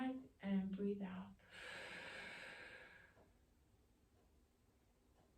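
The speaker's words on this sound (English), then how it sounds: "Now take hold of that bag and breathe out." A deep exhale pushed out into a bag during a guided breathing exercise, a soft, close rushing breath that swells for about two seconds and fades, following a few brief vocal sounds at the start.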